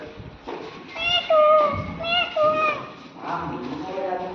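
A child mimics a parrot with a few squeaky, sing-song calls, close by, followed by a lower, breathier voiced sound.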